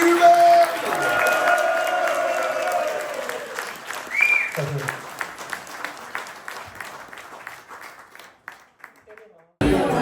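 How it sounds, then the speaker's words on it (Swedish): A crowd at a gathering of over 300 motorhomes claps and cheers with whoops and shouts, the applause fading into scattered claps before a sudden loud burst at the end. "En liten applåd kanske. Och lite jubel!"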